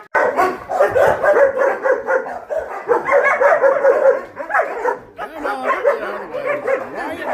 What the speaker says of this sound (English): What is y'all barking about, huh?